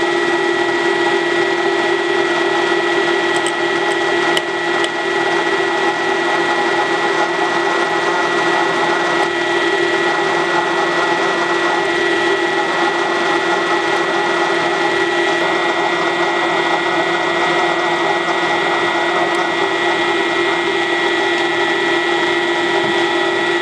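A carbide drill bit grinds steadily into a hard, crusty broken bolt at slow speed, producing a loud, continuous metallic whine with a constant tone, unbroken and with no voices for the whole stretch.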